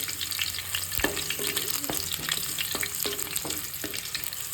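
Green chillies and cumin seeds fry in hot oil for an eggplant curry, giving a continuous close sizzle with a few distinct utensil knocks against the pan.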